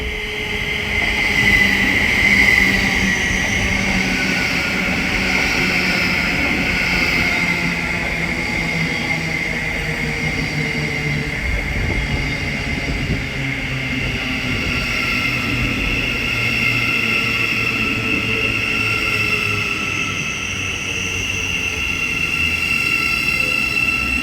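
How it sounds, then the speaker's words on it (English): Thameslink Class 700 electric multiple unit passing through Hitchin station on the East Coast Main Line, a loud continuous rumble with whining motor tones and faint wheel squeal over about twenty-four seconds. "So the 1445 Thameslink service from London King's Cross to Peterborough is now"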